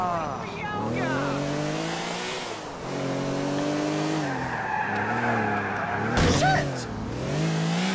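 A Porsche in Grand Theft Auto 4 skids with loud, wavering tire squeals over a revving engine, the screeches rising and falling across the run, while someone talks and swears over it.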